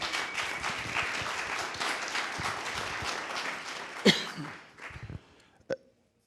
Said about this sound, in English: So a big round of applause for Trenton Elections also.